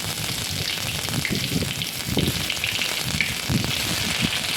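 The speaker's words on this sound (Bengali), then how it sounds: "তেলটা গরম হয়ে গেছে, এবার ওর মধ্যে আদা কুচি, রসুন কুচি দিয়ে দিলাম।" Chopped ginger and garlic sizzle steadily in hot oil in a pan, a close, continuous crackling hiss with no talk over it.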